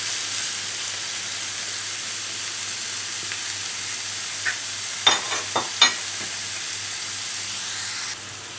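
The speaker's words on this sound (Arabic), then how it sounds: "بصلاية معايا كبيرة او 2 متوسطين انزل بيهم كده، ياخدوا تشويحة معاهم كده" Large onions sautéing in a pan, a steady bright sizzle with a few sharp stirring scrapes midway, close and continuous with no talking.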